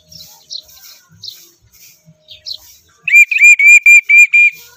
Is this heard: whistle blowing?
yes